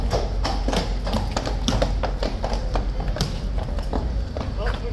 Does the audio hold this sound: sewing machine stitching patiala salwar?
no